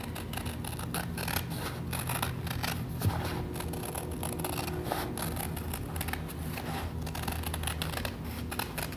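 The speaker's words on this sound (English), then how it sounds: "So I'm just going to trim around there as close as I can." Scissors trimming paper for an Easter craft, a continuous run of close snipping and crisp paper rustling with rapid repeated cuts and no talking.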